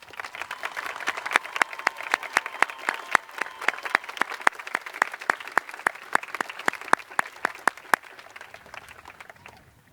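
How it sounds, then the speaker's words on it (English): Graduation ceremony audience applauds cum laude graduates wearing white stoles, a steady indoor patter of many hands with sharp individual claps standing out, thinning near the end. "Please stand for applause."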